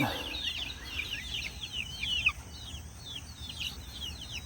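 Several backyard hens cluck softly in a coop, with repeated short calls at a steady pace. The sound is faint and slightly distant over a quiet background, and no one speaks.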